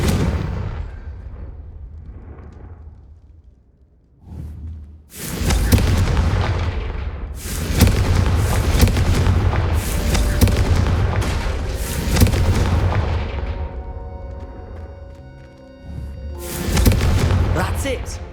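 Confringo fire spells blasting candelabras in the Hogwarts Legacy video game: several loud, booming explosive bursts with crackling tails, spaced apart over a rumbling game background, with voices talking between them.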